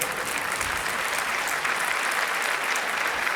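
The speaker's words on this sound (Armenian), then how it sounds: "մի քիչ շատացան ծափահարությունները" A stand-up comedy audience applauds, dense and sustained clapping at a steady moderate loudness with no gaps, close and filling the room.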